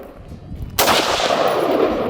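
Gunfire from a beginner shooting drill: after a quiet moment, a loud burst of rapid shots starts abruptly and runs continuously to the end.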